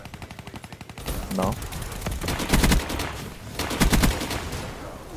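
Rapid automatic gunfire from an RPK Nuclear light machine gun in a shooter video game, several loud sustained bursts with short pauses between them, with game ambience and some talk underneath.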